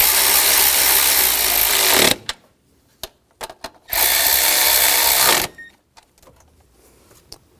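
A power tool on a 2000-2006 BMW X5 3.0L runs in two bursts of about two seconds each while tightening bolts during idle air control valve replacement, with short clicks and clatter between them.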